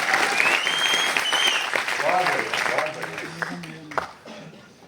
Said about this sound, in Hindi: जोरदार तालियां भूपेश।